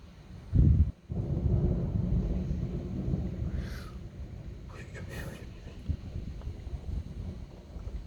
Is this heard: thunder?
yes